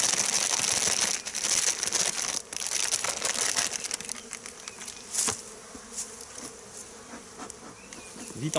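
Honeybees buzzing loudly at an opened winter hive, a dense close hum with crackling rustles and a few sharp knocks.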